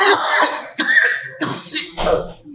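A person coughs repeatedly in a close, loud series of four harsh, raspy coughs with brief gaps between them.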